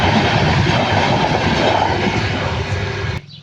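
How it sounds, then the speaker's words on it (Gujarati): A train rolls past a closed railway level crossing, a loud, close, continuous rumble with rhythmic wheel clatter that stops abruptly just before the end. "ટ્રેનનું ફાટક બંધ હતું જો ટ્રેન જાય છે જોઈ શકો છો તમે"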